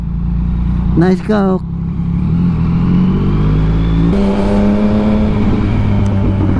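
A BMW Z4 passes on an expressway amid traffic, its engine rising over a steady road rumble, with a short burst of speech near the start and ongoing traffic drone afterward.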